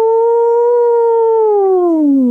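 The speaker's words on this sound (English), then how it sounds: "There came a long, unearthly howl" A long, loud, unearthly howl from a giant demon hound in a scary story, one sustained wavering tone that slowly slides downward, heard alone.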